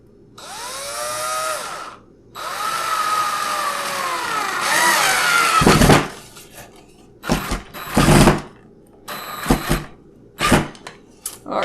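Power drill driving drywall screws at low torque: whirring bursts of motor noise, a long run followed by several short stop-start pulses, loud and close with no talking.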